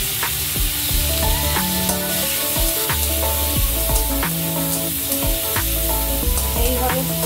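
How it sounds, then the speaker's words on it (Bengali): Bitter gourd (uchhe) frying in oil with turmeric and salt in a kadai for Bengali shukto, a loud steady sizzle running throughout with scattered spatters and a low rhythmic tonal hum beneath. "এখানে আমি এই উচ্ছেগুলোকে ভেজে নেব।"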